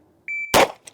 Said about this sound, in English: So I'm going to start the timer.